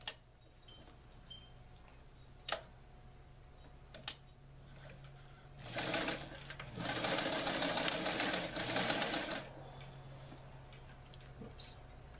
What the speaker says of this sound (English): now you want to sew from one end of the tie all the way down to the other